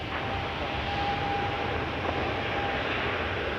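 An Air Canada airliner taking off from runway 23 at Toronto Pearson, a steady distant engine roar holding at an even level throughout, with no voices.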